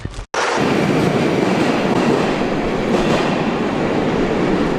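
A Moscow metro train roars into an underground station with a loud, steady rumble of wheels and rushing air that fills the platform without a break.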